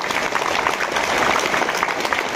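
Loud, steady applause from a school assembly honoring class 9th A at MM Rabbani High School in Kamptee, a dense wash of clapping that holds evenly throughout.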